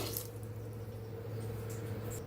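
Water poured over sprouted moth beans (matki) in a cooking pot gives a quiet, steady, continuous wash with a faint hum beneath and no talking.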